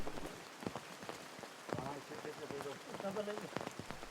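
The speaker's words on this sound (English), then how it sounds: "the heavens split open and a heavy downpour begins" Steady rain patters on surfaces, with a voice speaking over the downpour throughout.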